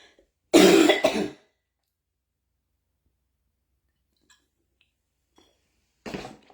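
A single burst of coughing or throat clearing up close, followed by quiet and a brief second rasp near the end.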